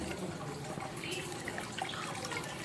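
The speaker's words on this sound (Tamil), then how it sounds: "தண்ணியை போட்டுட்டு நல்லா மிக்ஸ் பண்ணிக்கலாம்" Water pours into a pan of mushroom gravy with a steady, soft splashing and trickling rush that lasts the whole short moment.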